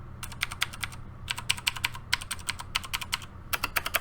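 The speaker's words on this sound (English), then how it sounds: "Now let's listen to how these keys sound. Here's the WASD keys." Close, crisp key presses on a Razer BlackWidow Ultimate 2013 mechanical keyboard, WASD keys tapped in quick uneven bursts of sharp clicks with short pauses between runs, alone over faint background hum.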